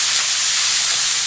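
Vegetables sizzle in a hot stir fry cooked for Chinese New Year: a steady, loud, broadband hiss of steam and frying that holds without a break.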